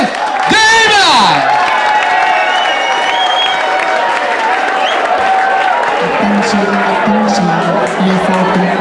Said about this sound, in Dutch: een applaus voor de winnaars van de Playback Show 2004